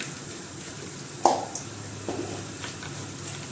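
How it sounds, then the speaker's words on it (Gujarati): Whole cinnamon, cloves, star anise, cumin and dried red chillies frying in hot oil as asafoetida is added, giving a soft, steady sizzle with one sharp crackling burst, close and quiet, no talking. "તો અહીંયા આપણું તેલ ગરમ થઈ ગયું છે હવે આપણે તજ લવિંગ બાદિયા જીરું અને આખા લાલ મરચાં નાખેલા છે"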